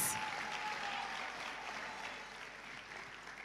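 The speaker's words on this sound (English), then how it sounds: "Round of applause for all the Magna Cum Laude recipients." An audience claps steadily through a university honours convocation, a dense, sustained wash of applause filling the hall with no voices over it.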